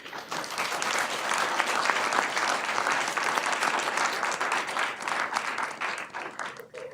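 An audience applauds to welcome lecturer Michael Bérubé at a bioethics talk, a dense, steady wash of many hands clapping that stays loud for several seconds and thins slightly at the end.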